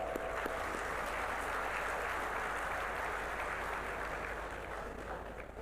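Audience applause at a university convocation ceremony on a Bengaluru campus, a steady, even wash of many hands clapping, moderately distant and sustained for several seconds without a break.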